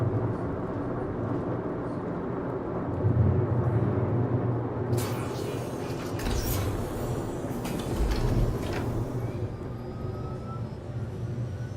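A shuttle in Star Citizen departs with a steady low mechanical rumble and hum, swelling twice, while brief bright hissing bursts rise midway; no voices are heard.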